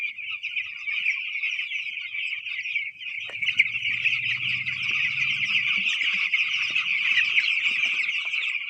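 A dense chorus of broiler chickens in a large flock inside a poultry shed, steady and continuous, with low clucking murmurs joining partway through.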